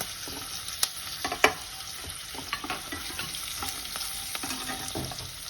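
Peanuts, ginger, green and dry red chilies and asafoetida fry in oil for vermicelli pulihora, a close, steady sizzle punctuated by sharp pops and spoon scrapes, with no voices.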